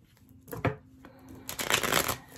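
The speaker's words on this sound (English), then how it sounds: "One more shuffle and we'll get on here." Tarot cards are shuffled up close, two quick riffling bursts, a short one and then a longer crisp flutter, fairly quiet with no talking.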